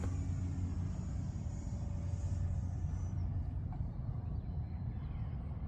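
A Freewing 64mm EDF F-16 RC jet flying just after takeoff gives a steady roaring rumble with a faint high ducted-fan whine that fades slightly, heard outdoors at a distance without talk.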